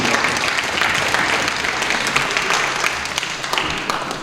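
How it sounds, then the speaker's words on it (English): Audience applause at a student award ceremony, a full, sustained round of clapping from a sizable crowd that holds steady for the whole stretch. "Another round of applause"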